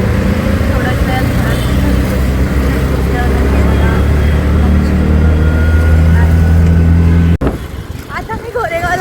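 An auto rickshaw's engine drones loud and steady during the ride with road noise, and the sound cuts briefly and shifts near the end.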